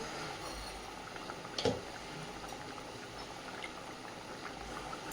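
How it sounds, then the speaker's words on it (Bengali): Fish curry simmers gently in a pot during homestyle village cooking, a soft, steady bubbling close by with one brief clatter early on and no voices. "কিছুক্ষণ ফুটিয়ে নিয়েছি মাছ দিয়ে"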